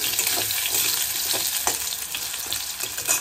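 Potato pieces fry in hot oil with nigella seeds in a pan, giving a steady loud sizzle, with repeated scraping stirs of a spatula throughout.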